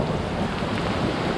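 Heavy rain pours steadily through a cold thunderstorm day at a campsite, a dense continuous wash of noise with wind buffeting the microphone and no voices.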